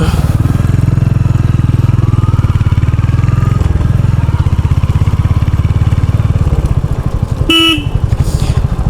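A motorcycle rides along a broken, potholed road with a steady, loud engine drone, then a short honk of a horn sounds near the end.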